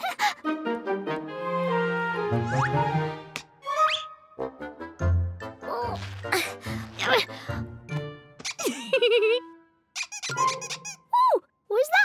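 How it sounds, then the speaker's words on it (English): Rubber duck squeaking in a children's cartoon, a few short high squeaks popping up between upbeat music and cheerful narration. "Then who made that squeaking noise?"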